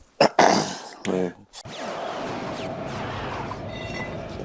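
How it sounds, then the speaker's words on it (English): Two or three harsh coughs burst out close to the microphone, then a steady low rumble of background noise continues. "coughing my lungs out on TV"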